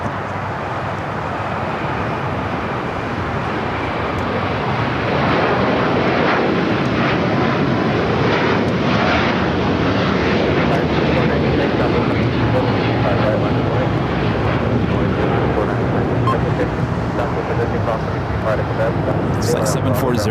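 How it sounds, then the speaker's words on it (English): Qatar Airways Airbus A350-1000 jet on flight 740 to Doha at LAX, a steady broadband engine roar holding loud and continuous throughout, with a person talking over it. "Flight 740 heading back to Doha at A350-1000"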